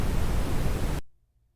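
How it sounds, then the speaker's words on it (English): Brownian noise generated in Audacity at 0.4 amplitude: a steady, dense rumbling hiss plays alone for about a second, then stops abruptly, leaving only a faint low hum. "that's how you create a brown noise."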